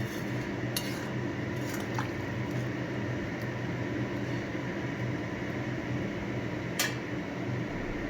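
Potato and soybean curry bubbles in a pot after a little water goes in, a continuous dense simmering hiss with a couple of faint utensil clinks on top.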